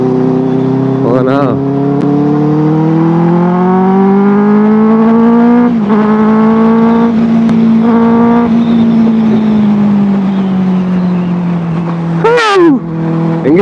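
A Benelli 600i motorcycle engine drones loud and close while riding, its pitch rising and falling with throttle changes and brief sharp revs near the start and end.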